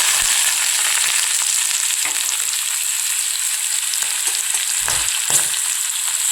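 Small onions, garlic, ginger and green chillies frying in a pan after mustard seeds have popped, for a fish egg curry, giving a steady loud sizzle with a few soft stirring scrapes.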